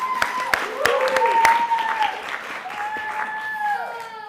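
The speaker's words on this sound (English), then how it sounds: "Everyone clap at Hannah Beth." Audience applause at a synagogue latke-hamentaschen debate event, a short burst of clapping with sharp claps and some whistle-like tones riding over it, moderately loud and fading toward the end.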